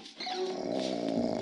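Dog in the Robbery Bob stealth game giving a short, close, growly bark with a tonal, whining edge, heard on its own.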